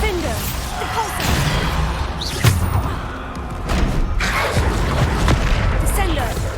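Spell impacts and booms from Hogwarts Legacy combat, with repeated thuds and whooshing bursts over dense game noise, one sharp blast standing out midway and more hits later.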